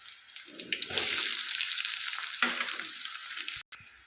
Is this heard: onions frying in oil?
yes